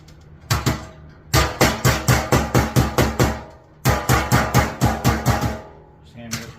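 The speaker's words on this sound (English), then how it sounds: "Just hammer it just enough so it can't come apart." Sheet metal HVAC duct is hammered in two rapid runs of about a dozen sharp, loud, ringing metallic blows each, separated by a short pause.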